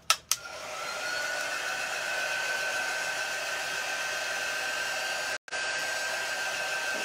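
A hair dryer blows steadily to dry fresh chippy paint on Easter décor, a close, loud continuous whoosh after a couple of clicks at the start, briefly cutting out near the end before resuming.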